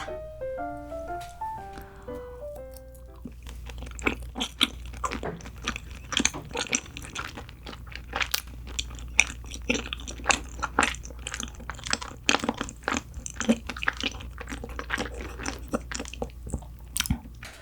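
Close, crisp chewing of a peach glutinous rice cake comes in irregular bites and squishy crunches, with a brief melodic tone at the start and no talking.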